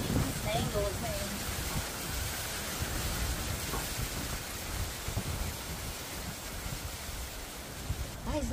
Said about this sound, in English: Hopefully, this rain is not too much